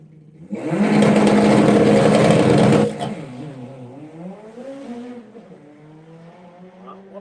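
Drag racing car launching down the strip at Santa Pod on a run-what-you-brung day, a loud roaring engine blast for about two seconds, then receding fast, leaving fading drone and faint distant crowd and announcer voices.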